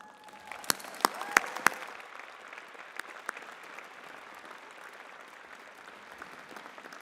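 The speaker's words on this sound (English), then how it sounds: "I think we need to give another round of applause" Graduates' families and guests at a university convocation ceremony applaud in a large hall, with a few sharp nearby claps ringing out early and a broad, steady wash of clapping holding underneath.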